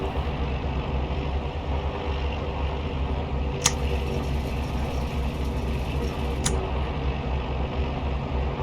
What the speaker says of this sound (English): booster pump on, engage, full rich, engine fires, throttle set to 1000 RPM